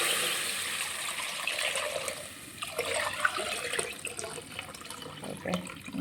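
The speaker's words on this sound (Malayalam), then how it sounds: "നമ്മളിതെല്ലാം മൂത്തു മഞ്ഞപ്പൊടി ഇട്ട് തേങ്ങാപ്പാൽ ഒഴിക്കുന്നു കേട്ടോ" Coconut milk is poured into a pan of spiced food coloured with turmeric, a soft continuous liquid splash and trickle running steadily close by, with no talking.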